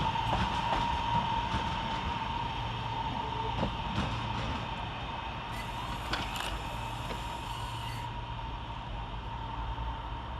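Northern class 323 electric train 323228 idles at Manchester Piccadilly station, giving a steady loud electrical whine and drone with occasional clunks and a higher hiss partway through.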